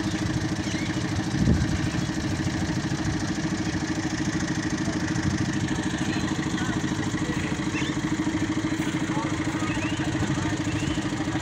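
A small park train engine at Rawal Lake park in Rawalpindi idles steadily with an even, continuous rumbling clatter throughout, close by and fairly loud.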